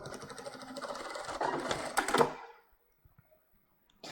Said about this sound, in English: It's when you make reverse sewing, the needle will drop at the same hole of the forward sewing.